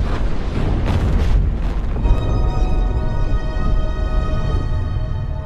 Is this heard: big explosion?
yes